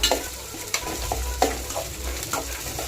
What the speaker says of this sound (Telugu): అది బాగా ఫ్రై అయ్యేదాకా ఫ్రై చేసి